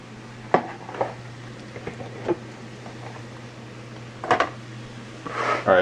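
Shirataki noodles strained with a lid held over the pot in a home kitchen: a few light clanks of the lid, then a short rush of draining liquid at the end, over a steady low hum.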